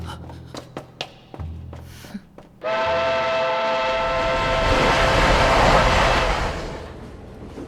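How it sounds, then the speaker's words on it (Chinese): A train pulls in after a few sharp clanks, then runs loudly and steadily along the rails with a sustained tonal whistle-like ring that fades near the end. "看样子，火车已经驶离鸿门大路"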